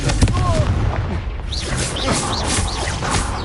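Confringo blasting spell explosions in Hogwarts Legacy, loud booming blasts and crackling impacts over a busy combat bed, with a voice heard briefly and bird-like chirps in the mix.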